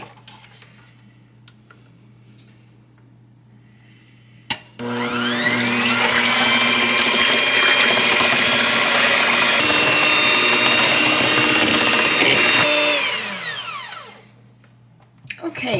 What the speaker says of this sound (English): I'm going to take my 6 eggs and I'm going to beat them for about 5 to 6 minutes until they're kind of nice and frothy